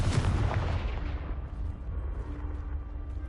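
A Confringo blasting spell explosion in a video game: a single loud, booming blast that rumbles and then fades into a lingering low decay, heard without any talking.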